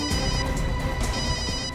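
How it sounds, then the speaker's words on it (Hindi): A mobile phone rings somewhere nearby in a dense, noisy scene, its steady electronic ringtone running continuously for the whole stretch amid a thick, rumbling background, with no talking over it. "घंटी तो बज रही है।"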